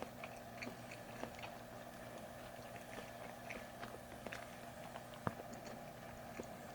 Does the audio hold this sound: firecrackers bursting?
no